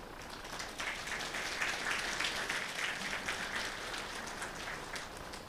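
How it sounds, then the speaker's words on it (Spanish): A church congregation applauds during a special Quechua-language worship service, giving a continuous patter of hand clapping that sounds somewhat distant and soft and swells slightly midway. "le damos un saludo de aplausos"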